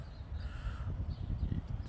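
Harsh crow-like caws repeat over a steady low rumble of wind or traffic, fairly distant and partly masked.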